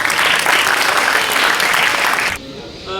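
Loud, dense audience applause at an award presentation in Ujjain, a steady roar of clapping lasting over two seconds before cutting off abruptly, followed by a brief quieter moment and the start of a voice.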